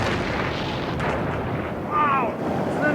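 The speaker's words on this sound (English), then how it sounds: "Seconds later, another blast." A large explosion blast rumbles on as a broad, loud roar with heavy low-end power, and a faint voice is heard briefly partway through.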